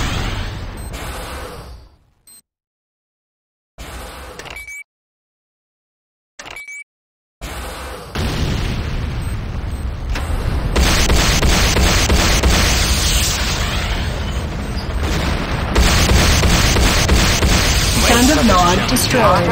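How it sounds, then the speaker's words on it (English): A C4 charge detonates in Command & Conquer Renegade, followed by a long, loud, sustained roar of explosions and crashing debris, with game voice announcements coming in and out. "C4 is set. C4 is set. Fire in the hole!"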